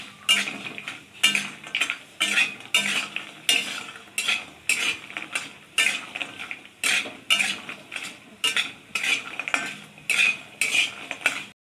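Bori lentil dumplings fry in a pan, stirred with a utensil that scrapes and clinks in a steady repeating rhythm over a soft sizzle throughout, close by.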